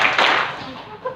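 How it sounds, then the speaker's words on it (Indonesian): A group claps at an Islamic Ramadan camp, with a couple of sharp, close clapping bursts at the start, and a voice is heard alongside them. "Tepuk 1, tepuk 2 di sisi kanan."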